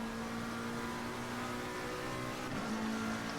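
A GT race car in Assetto Corsa Competizione at Monza holds a steady, quiet engine drone with a constant pitch, under a low hum and with no voices. A brief gear-change dip comes near the end.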